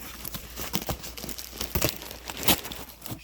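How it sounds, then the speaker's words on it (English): Crackly crinkling of bubble wrap being pulled from a beat-up, taped cardboard box of books in a kitchen, a run of close, uneven rustles and pops lasting a few seconds. "There's bubble wrap."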